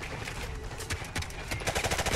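Rapid automatic machine gun fire from the Call of Duty: Modern Warfare Remastered video game, bursts of close, loud shots rattling in quick succession, with a denser volley toward the end.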